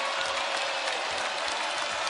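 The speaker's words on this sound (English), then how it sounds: "Crowd now into it." Crowd noise from Indiana fans at a women's college basketball game against Harvard, a steady distant roar of cheering and clapping filling the arena without any clear voice on top.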